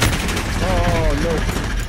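Continuous loud gunfire from Call of Duty: Modern Warfare multiplayer rattles without a break, with a voice speaking briefly over the shooting.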